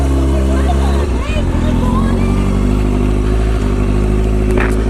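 A motorcycle engine runs steadily at close range with a low, continuous rumble and a brief dip in level around the one-second mark. Voices are present over the engine, though no clear words come through.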